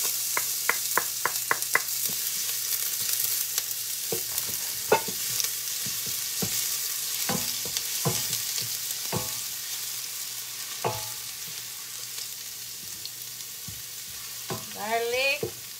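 Garlic frying for Filipino noodles, a steady hiss of oil in a pan, close and clear, broken by scrapes and knocks of a utensil stirring.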